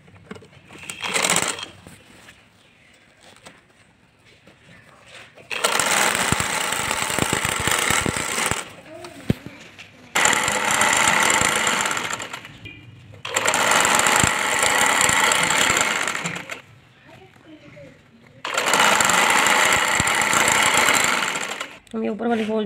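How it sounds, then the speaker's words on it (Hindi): A sewing machine stitches the lower fold of a fairy-style maxi dress, running in four long loud bursts of several seconds each with pauses between, after a brief earlier whir; a voice talks quietly in the gaps. "अब हम नीचे वाली फोल्ड को सिलाई करें।"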